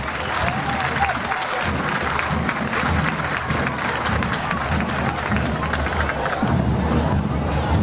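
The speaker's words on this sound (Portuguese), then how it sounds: "Uma salva de palmas para o projeto de balé Nos Passos da Dança" A crowd at an outdoor municipal parade of bands, fanfares and social projects applauds a children's ballet project, with sustained dense clapping, scattered cheers and shouting voices mixed in, loud and continuous throughout.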